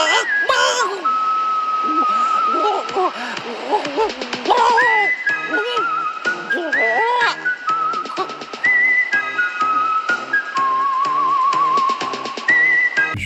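Bright, sustained whistled tones rise and hold in long and short notes, with a voice talking in between and over them.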